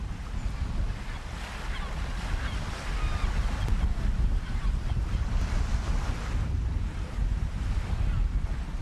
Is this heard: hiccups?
no